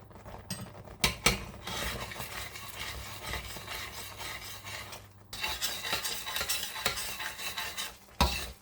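A spoon scrapes and stirs thickened milk in a pan while making palkova, with continuous close rubbing and faint sizzling and a couple of sharp knocks against the pan.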